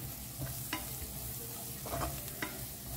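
Prawn noodles tossed and mixed with masala in a pan, with soft scraping strokes and light sizzling at a low, steady level and a few distinct clinks of the utensil.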